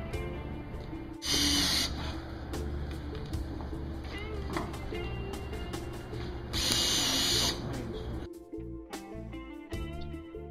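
A power drill drives screws into a wooden punt under construction, two long whirring bursts with short clicks and knocks of handling in between, fairly quiet.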